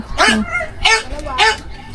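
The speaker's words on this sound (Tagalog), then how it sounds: "mga aso ko" Dogs belonging to the household bark in three sharp, evenly spaced bursts close by indoors, loud and clear with a faint background hum.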